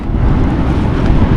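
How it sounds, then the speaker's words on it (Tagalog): Strong, steady wind of a sandstorm roars and buffets the microphone without letup, a dense blustery rush with no voices. "Oh, sandstorm na, mahangin"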